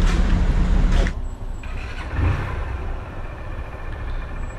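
A motorcycle engine revs loudly, then drops as it shifts into gear and pulls away, its rumble continuing steadily at a moderate distance under outdoor ambience, with no talking.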